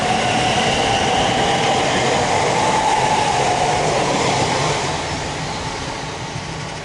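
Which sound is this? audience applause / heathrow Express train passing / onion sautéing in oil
heathrow Express train passing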